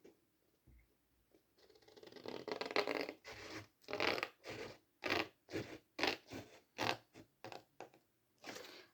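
Scissors snip through card being cut for a box, a run of steady, close crisp cuts with short pauses between strokes.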